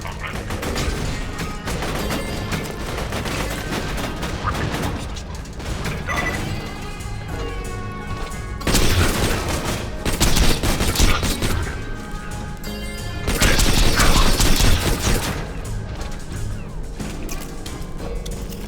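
Guns test-fired in Borderlands 2, mostly steady rapid bursts, with louder, denser volleys about halfway through and again near the end, no voices.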